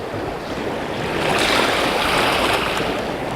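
Mediterranean sea water washing onto the shore, a close, continuous broadband rush of surf swelling slightly in the middle, with some wind.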